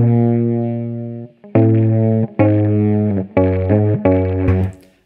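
Guitar string with a small clip attached to it, played as a series of sustained, buzzy, distorted notes, each struck loudly and ringing a second or so before the next, close and alone without talk.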